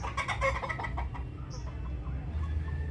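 Shamo chickens cluck in a run of quick, fairly faint calls at the start. The clucking then trails off into quieter farmyard background.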